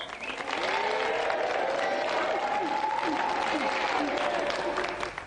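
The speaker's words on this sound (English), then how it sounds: "Round of applause for Mel." A television studio audience claps continuously for several seconds, with loud, even applause and a faint voice underneath.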